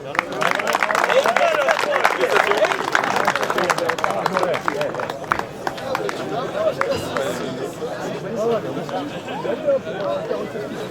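Crowd at a football gala event applauding a veteran goalkeeper, sustained clapping mixed with loud chatter and hubbub, strongest at the start and tapering slightly over the eleven seconds.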